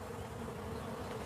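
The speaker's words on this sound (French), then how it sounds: "Pour John Miller, le bruit des abeilles est le bruit de l'argent." Honey bees buzz in a dense, steady drone around the hives of a commercial beekeeper, a continuous hum with no voices.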